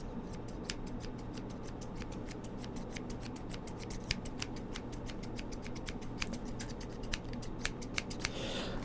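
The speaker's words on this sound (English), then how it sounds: "Lucky me, I have scissors here." Repeated sharp metallic snips of scissors, a steady run of crisp clicks over a low hum, fairly close.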